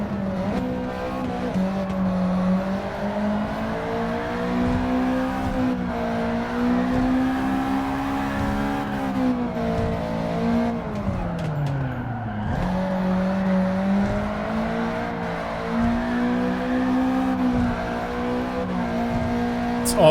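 A race car on fresh tires in Gran Turismo 7 holds a steady, high engine drone that rises and falls with throttle and gear changes, dipping and climbing again midway, with faint tire noise and no voices.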